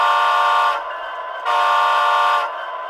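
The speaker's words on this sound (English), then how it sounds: "The horn." Horn of a phone-controlled model train sounding in two loud, clear blasts of about a second each, separated by a brief gap and followed by a low electronic hum.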